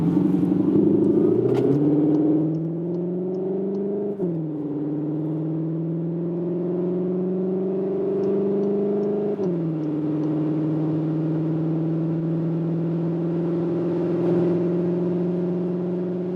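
A 2021 Cupra Leon ST e-Hybrid plug-in hybrid estate accelerates hard from low speed on a wet road, its engine note rising steadily through several gear changes heard from inside the cabin.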